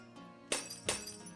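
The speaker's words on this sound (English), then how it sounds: "The breaking of the glass-like items." Glass-like items shatter in the video game Siralim Ultimate: two sharp, bright breaking crashes about a third of a second apart, each with a brief tinkling tail, loud against a quiet hum of game background.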